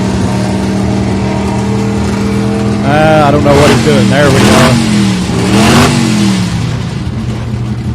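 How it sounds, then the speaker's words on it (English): A car engine revs a couple of times at a car show, rising and falling loudly over a steady idle while people talk nearby. "he's got to rev it up a little more."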